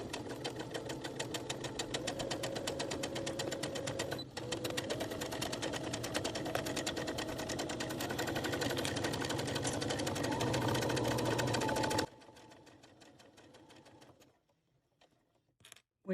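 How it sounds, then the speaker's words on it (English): Home sewing machine stitching a Velcro cable wrap, a steady loud mechanical whir with rapid needle clatter running unbroken for about twelve seconds, then stopping abruptly and leaving faint handling clicks and near silence. "So now I'm going to sew."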